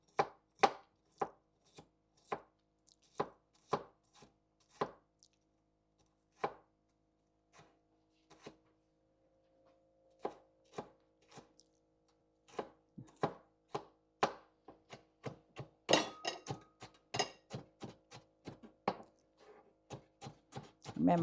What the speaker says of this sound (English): Chopping up everything fine.